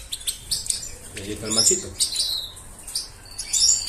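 Goldfinches in a breeding cage chirp and tweet in quick, bright, repeated bursts close by, while someone talks briefly in Spanish over them.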